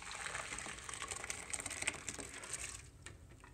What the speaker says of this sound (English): So what I'm going to do is pour this all out into a nice big bowl.